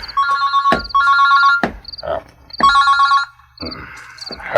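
A cellphone rings with a loud electronic ringtone, repeated bursts of bright tones separated by short gaps, close and clear with no talking.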